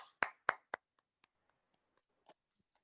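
Applause in an online Toastmasters club meeting: three sharp, close claps in quick succession, then sparse, very faint scattered taps trailing off over a quiet background.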